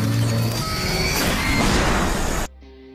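A gunshot strikes and shatters an airplane window, a loud dense crash of breaking glass and turbulent noise over a couple of seconds that cuts off abruptly to a quieter hum.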